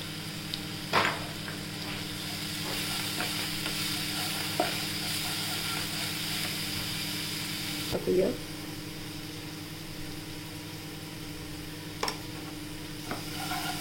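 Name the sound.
asafoetida and turmeric sizzling in hot oil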